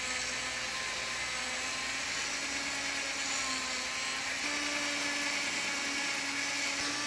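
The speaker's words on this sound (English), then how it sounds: "we need to get a wire wheel on a Dremel tool and very carefully buff the dirt out of the aluminum like this" A Dremel rotary tool fitted with a wire wheel buffs dirt off an aluminum light on an old train, giving a steady, high-pitched whine that holds throughout with a slight shift in pitch partway through.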